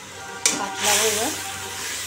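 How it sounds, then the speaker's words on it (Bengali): Masala with ground cumin, salt, turmeric, tomato and green chilli sizzles and hisses in a pan after a sharp clatter, a steady close frying crackle that swells briefly and then settles. "মশলাটা কষাচ্ছি"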